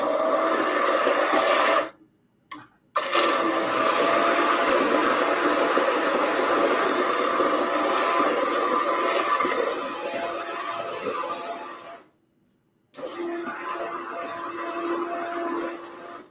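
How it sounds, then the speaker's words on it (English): A hand blender whirs steadily through a cream of asparagus and mushroom soup, loud and continuous, cutting out briefly twice before starting up again. "the hand blender works real well"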